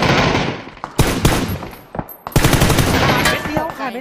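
Loud, close automatic gunfire from the PUBG video game on the Karakin map, sustained bursts with short pauses between them. Faint in-game sounds and a tonal flicker appear near the end.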